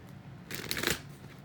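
Tarot cards being shuffled, a single brief riffling burst of papery flutter, close and fairly soft in a quiet room.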